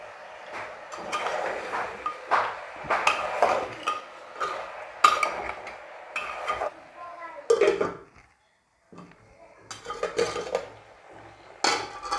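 Goat head curry stirred in a metal pot, with repeated scraping and clinking of a spoon against the pot in an irregular rhythm, briefly pausing before resuming.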